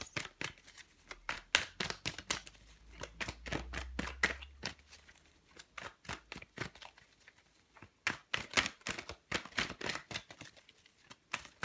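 Tarot cards being shuffled over and over, a steady run of crisp riffling bursts with brief pauses, close and fairly loud.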